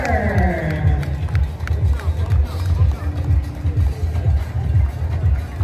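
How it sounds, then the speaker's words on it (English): A large crowd fills the finish line of the 2024 RBC Brooklyn Half Marathon on a morning, a loud, steady wash of mixed voices and hubbub with faint scattered cheering throughout. "Great crowd on hand this morning."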